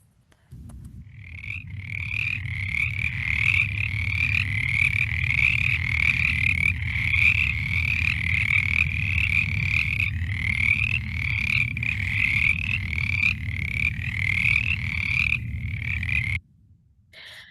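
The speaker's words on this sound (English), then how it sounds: "So that's the mountain chorus frog." A mountain chorus frog calls in a loud, close, continuous series of rapid rasping trills that repeat steadily for about fifteen seconds over a low rumbling background, then stop abruptly.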